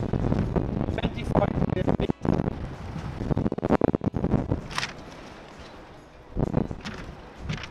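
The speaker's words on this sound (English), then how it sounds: "It's really windy, eh?" Wind buffeting a camera microphone outdoors, a dense low rumbling roar in uneven gusts that runs throughout, with someone speaking briefly above it.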